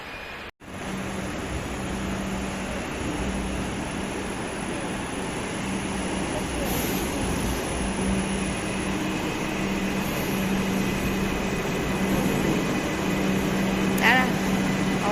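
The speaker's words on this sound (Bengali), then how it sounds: "এই যে আমাদের ট্রেন এসে গেছে।" A Kolkata metro train pulls into the station with a broad, steady roar that builds slightly over time, accompanied by faint hums and a short high squeal near the end; people speak over it.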